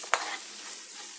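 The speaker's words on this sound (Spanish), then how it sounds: "Y lo vamos a seguir sofriendo con los vegetales que tenemos ahí ya presentados en el video." Rice frying with vegetables in a pan, a close, bright continuous sizzle with a quick stirring scrape near the start, no talk.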